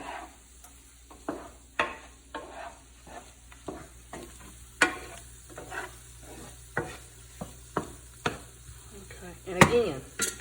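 Sausage and garlic sizzle steadily in a pan, broken by a dozen or so sharp scraping strokes of a spoon stirring them, the loudest clatter near the end.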